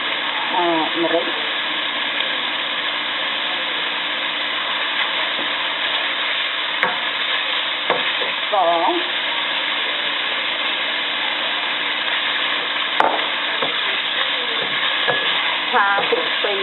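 Pork with pickled green mustard sizzles and stir-fries in a pan, a steady close frying hiss with occasional scrapes and stirring clinks, while a person talks over it.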